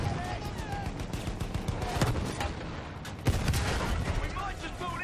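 Rapid gunfire and explosive booms in the World War I shooter game Battlefield 1, dense repeated shots with a couple of heavier blasts, loud and close, with voices talking underneath.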